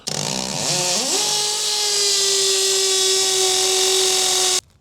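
A steady, high-pitched cordless drill whine spins up after a brief start and holds at a constant pitch before cutting off abruptly.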